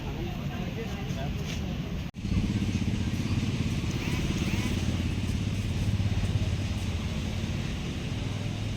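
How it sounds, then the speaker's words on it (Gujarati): Motorcycles roll in close by, their engines rumbling steadily and loudly after a brief dropout, with some clatter and what may be muffled voices mixed in. "બાઈકો આવી જાય રહી"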